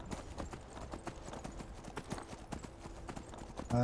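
Horse hooves clip-clop at a steady trot in the video game Skyrim, continuous and fairly close, with a louder burst at the very end.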